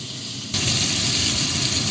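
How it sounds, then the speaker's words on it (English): Saltfish frying in a pan with onions and pepper in a home Trinidadian kitchen, a steady broadband sizzle that jumps louder after half a second and holds close and continuous, with no talking. "The saltfish is frying now."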